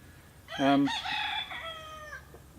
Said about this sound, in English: Bloody rooster, I'll tell you what, he drives me mad